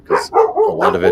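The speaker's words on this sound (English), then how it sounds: "that's my dog agreeing" A dog barks and yips in a quick, close burst of several loud, short barks. A person speaks at the same time.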